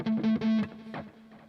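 Distorted electric guitar played through a Kemper amp, a few sustained single notes ringing close and loud, then fading into a quieter decaying tail.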